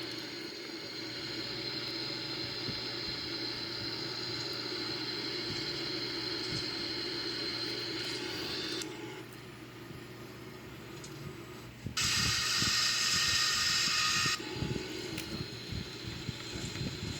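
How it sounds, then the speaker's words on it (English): The engines of a Boeing 787-9 on its takeoff roll produce a steady broadband roar and whine that grows heavier, with rumbling and rattling cabin noise building toward the end. "The engine thrust is increasing."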